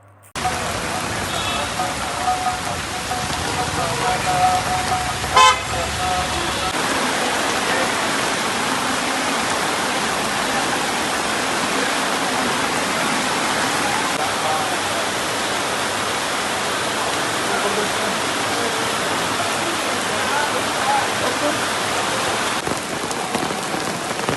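Steady rain pours on roads near TTD sheds on the Tirupati ghat roads, a continuous dense hiss filling the whole stretch with one brief clunk early on.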